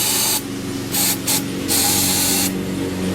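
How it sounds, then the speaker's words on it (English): Short bursts of aerosol cleaner spray into an idle air control valve, several hissing blasts of varying length separated by brief pauses, close and loud over a low background hum. "you just spray it in it, shake it around a little bit, let it come out"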